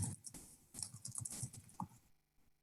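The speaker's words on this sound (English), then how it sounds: "And if we start typing" Keystrokes on a computer keyboard while entering text into a web form's text box, a quick run of light irregular clicks that stops abruptly near the end with no talking.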